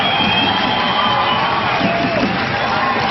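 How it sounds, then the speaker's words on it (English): A rugby crowd at a Hong Kong cup final roars continuously after a try levels the score, a loud, dense wall of cheering and shouting that holds steady throughout. "17 all, and you can hear the crowd"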